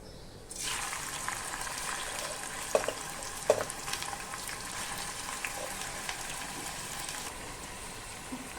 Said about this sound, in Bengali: এবার আমি পেঁয়াজটা কড়াইয়ে দিয়ে ভেজে নেব।